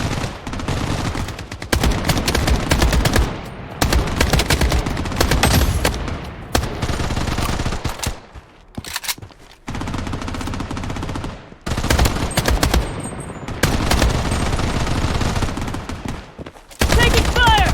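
Rapid automatic gunfire from the PC shooter Blood Strike, with loud bursts and sustained volleys nearly nonstop, broken by a few short gaps and overlaid with game voice callouts.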